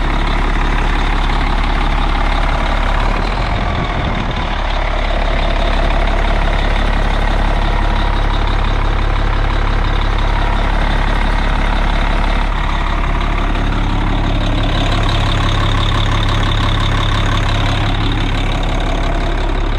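Engine of a 1997 Newell motorhome coach idling with a loud, nearly straight-piped exhaust, a deep steady rumble that stays close and heavy for the whole stretch, with no speech over it.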